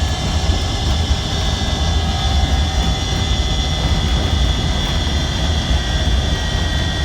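A Gem electric car driving at about 25 mph, its steady, loud broadband road and drivetrain noise filling the cabin with an even whine throughout, no voices over it.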